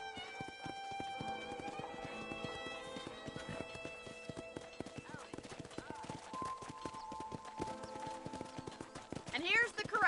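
Horses at a ranch corral in Red Dead Redemption walk in steady irregular hoof clip-clops with a brief whinny near the end, all under speech and background game sounds.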